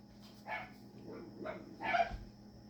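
Dogs bark several times at a distance, faint short yaps spaced irregularly over a low steady background hum.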